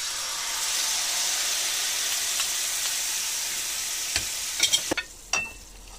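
A mixture sizzles steadily in butter and scallop juice in a lowered-heat pan, a close, even frying hiss, then a few sharp clinks and scrapes of a utensil near the end.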